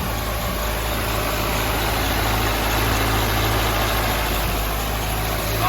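A rebuilt Dodge Shelby Turbo Daytona engine, a Turbo Z project car, idles steadily and loudly throughout, with a constant low rumble and vibration and no talking.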